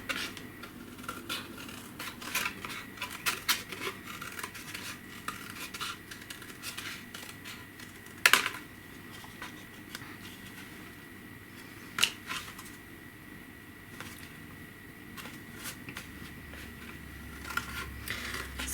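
Scissors cut through a watercolor painting on paper in faint, steady snips and rustles that run throughout, quiet and close.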